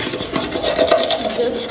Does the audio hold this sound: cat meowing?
no